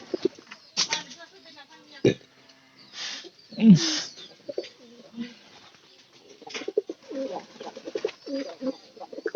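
A thin, underfed pigeon coos nearby in soft repeated phrases, with wing flutters and scattered bird sounds, while a person talks intermittently.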